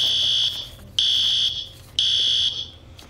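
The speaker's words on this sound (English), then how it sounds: "Attention, this is a false alarm." A school fire alarm in a cartoon rings in three loud, shrill, evenly spaced bursts, each about half a second long, separated by short gaps.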